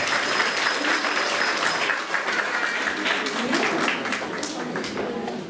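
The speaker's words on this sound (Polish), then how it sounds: "Brawa dla nich." An audience at a children's song festival in Nowe Miasto nad Wartą applauds the jury, with sustained, even crowd clapping at steady loudness and some talk beneath it.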